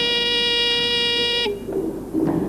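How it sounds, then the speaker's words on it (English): A quiz contestant's buzzer bell for St. Peter's school sounds one loud, steady electronic tone with a rich stack of harmonics for about one and a half seconds, then cuts off abruptly into faint room noise. "they call my attention by ringing a bell that sounds like this."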